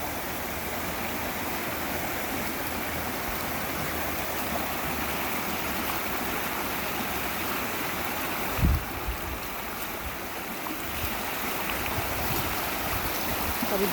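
Strong rush of a rain-swollen river during a farm crossing, a broad continuous roar of flowing water heard up close, steady throughout with a brief splash partway through and no talk.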